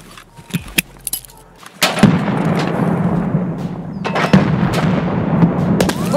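Grenades going off in the shooter game Escape from Tarkov on the Customs map: a few sharp clicks, then a loud, close blast with a long rumbling, crackling tail, and a second burst partway through. No talking.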